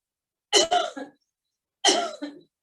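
Two forceful, short coughing bursts about a second apart during a yoga breathing exercise, close and loud, with silence between them.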